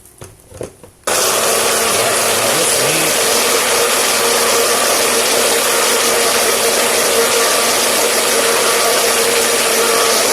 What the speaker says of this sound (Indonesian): kita masukkan di blender untuk kita blender, campur air sedikit dulu.